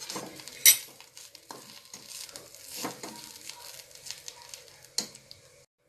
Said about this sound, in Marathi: आता आपण त्याच्यात खसखस आणि खोबरं टाकून घेऊ आणि चांगलं हलवून घेऊ